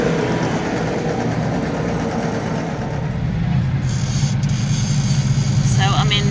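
A cab-controlled mower works a field called Low Lane in Westmorland, where sheepdog trials are held. Its engine gives a loud, close, continuous low drone that swells slightly toward the end.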